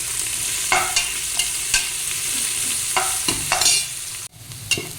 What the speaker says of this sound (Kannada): ನೀರುಳ್ಳಿ ಚೆನ್ನಾಗಿ ಫ್ರೈ ಮಾಡ್ಕೊಳ್ಳಿ.